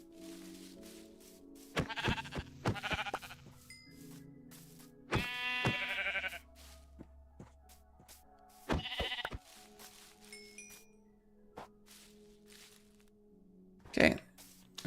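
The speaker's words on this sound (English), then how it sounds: "I heard a sheep out here." Sheep bleating in the video game Minecraft, several short harmonic bleats spread across the clip, with a voice talking over the game sounds at times.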